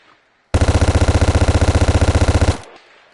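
A Vector submachine gun in a VR video game fires one rapid, loud, close burst of about two seconds, with evenly spaced shots at a very high rate that cut off abruptly.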